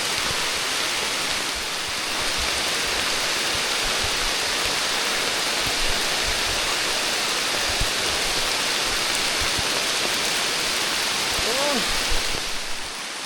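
Heavy rain pours steadily through a forest at night, a dense continuous hiss with no breaks; a faint voice briefly murmurs under the downpour near the end.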